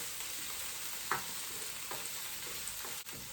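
Onions, garlic and spring onions cook gently over low heat, giving a faint, steady sizzle with a few soft stirring scrapes and a brief utensil knock near the end.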